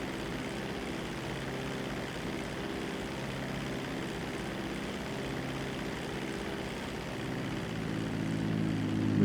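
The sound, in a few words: seaplane flying at full throttle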